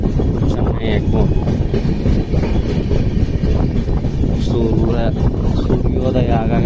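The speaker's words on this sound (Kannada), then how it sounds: "ಚೆನ್ನೈ ಎಗ್ಮೂರ್ ಸೂಪರ್ ಫಾಸ್ಟ್ ಗಾಡ್ರಿ ಅದು ಅಕ್ಕಲ್ಕೋಟ್ ರೋಡಿಗೆ ಸ್ಟಾಪ್ ಅದ ನೋಡ್ರಿ" A Chennai Egmore superfast express train runs past on the rail line near Akkalkot Road, a loud, steady rumble of wagons with faint clickety-clack throughout, under someone talking.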